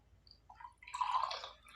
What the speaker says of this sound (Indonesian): Langsung kita tuang dah.